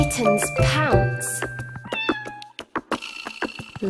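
A kitten meows in an English children's nursery rhyme song. A short rising and falling mew rises above sung vocals and bouncy backing music.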